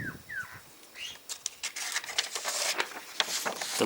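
Birds flap their wings in repeated bursts of feathery patter, with a few short calls near the start, moving close by outdoors against breezy background noise.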